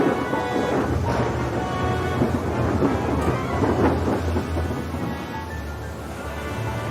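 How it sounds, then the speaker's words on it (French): Heavy rain pours down in a sustained, dense roar with low rumbling thunder beneath, a loud continuous storm with no voices. "Et puis une grosse averse. Et puis des torrents d'eau tombèrent"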